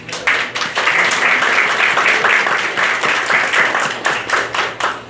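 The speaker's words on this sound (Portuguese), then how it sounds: "Aplausos aí pro colega." Audience applause at a talk, loud and close, with rapid overlapping claps forming a continuous wash that carries on for several seconds.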